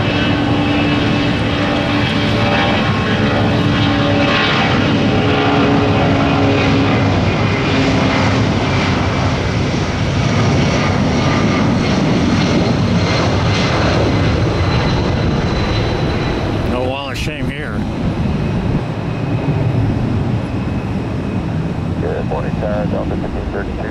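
A Sun Country airliner taxiing and lining up for takeoff at Tampa International Airport, its jet engines a loud, continuous roar with steady whining tones, a brief clatter partway through, heard from nearby.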